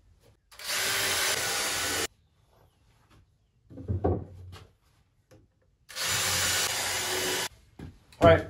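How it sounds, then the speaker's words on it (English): A power drill drives 3-inch deck screws into a pre-drilled wooden shooting bench frame in two loud, sustained whirring runs, each about a second and a half long, separated by quieter handling knocks. "and I'll screw this together"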